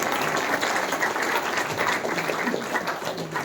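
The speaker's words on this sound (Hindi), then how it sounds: "जोरदार तालियों से दीदी जी का बहुत बहुत धन्यवाद है।" An audience at a Brahma Kumaris Avyakt Diwas class in Meham claps steadily, a dense and fairly loud round of applause that holds for several seconds without pause.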